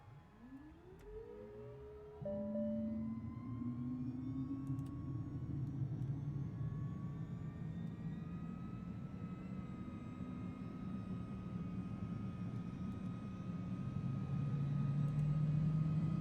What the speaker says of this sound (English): I love this plane for how it sounds when you start it